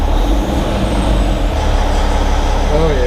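A Cummins X-15 diesel truck engine running during servicing, giving a loud, steady low rumble close by with a faint higher whine on top.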